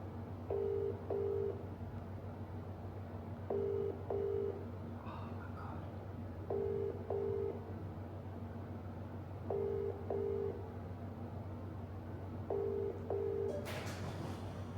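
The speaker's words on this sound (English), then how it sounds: "Let me ring him on WhatsApp." A WhatsApp outgoing call rings in Bali, sounding as five evenly spaced pairs of beeps about three seconds apart over a steady low hum, ending in a short rustling burst.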